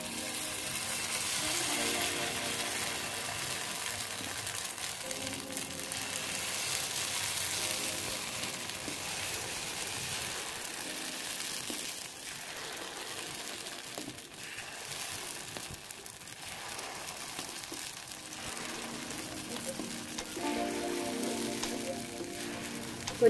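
Carrot paddu batter sizzles and fries steadily in a hot paniyaram pan, a continuous crackling hiss at moderate level with no talking throughout.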